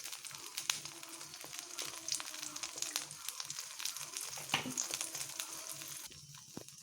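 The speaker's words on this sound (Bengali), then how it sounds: "আমি একটু চারদিক থেকে একটু তেল দিয়ে নেব আর একটু করে" An egg fries gently in oil over low heat in a pan, giving a quiet, continuous sizzle and crackle with occasional light clicks that fade near the end.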